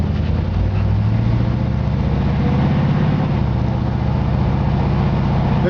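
A 1972 Chevrolet Camaro with a rebuilt Chevy 350 V8 under way, a loud steady low engine rumble that rises in pitch then settles, heard from inside the car with no talk.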